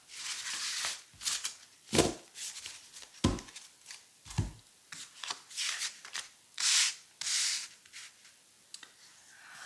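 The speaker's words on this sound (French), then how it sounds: "nous allons donc prendre nos 5 cartes habituelles" Tarot cards are drawn and laid out from a deck, heard as a series of soft, close rubbing and sliding swishes of varying length spread irregularly across the stretch, with no speech.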